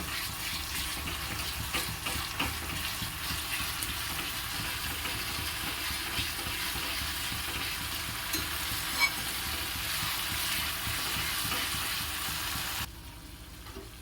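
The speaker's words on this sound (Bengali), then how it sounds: "একটু গ্যাসের ফ্লেমটা বাড়িয়ে দেবো নাড়াচাড়া করতে হবে" Mixed vegetables fry in a kadai over a gas flame while being stirred, giving a continuous close sizzle with scraping, rhythmic stirring that stops abruptly near the end.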